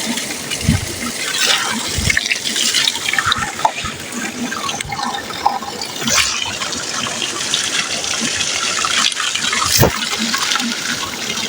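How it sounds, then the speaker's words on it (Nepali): Spring water pours steadily into a container near a Nepali riverbank, a continuous close gushing splash with a few sharper knocks and splashes along the way. "यो पानी फालेर चाहिँ नयाँ पानी भर्छु।"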